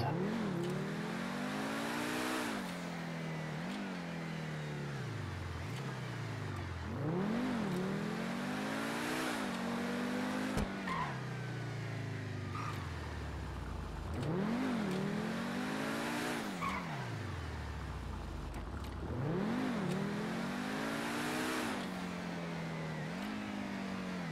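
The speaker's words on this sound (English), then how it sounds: "Supercar number 4, Pegassi Ignus." Pegassi Ignus supercar in GTA V Online, its engine revving up and dropping through repeated gear changes, with tire squeal and skidding between the surges, loud and close, with no talk.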